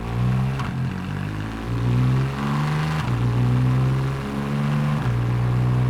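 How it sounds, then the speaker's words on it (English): A deep engine rumble rises and falls as a 991.1 Porsche 911 Targa 4S with sports exhaust revs repeatedly, with throaty exhaust tones shifting as the exhaust valves change between surges. "you can hear the exhaust valve changes"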